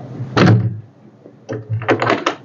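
A tuna door closes in the cockpit of a Hatteras sportfishing yacht, with a loud thump followed by a cluster of clunks and rattles a second later.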